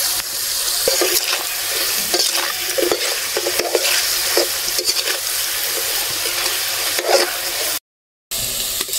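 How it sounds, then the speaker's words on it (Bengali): Diced potatoes fry with a little salt and turmeric for a papad kalia curry, a steady close sizzle with stirring clatter and occasional scrapes running throughout, no voices, broken by a brief dropout near the end. "আলু ভাজায় অল্প নুন এবং হলুদ দিয়ে দেব।"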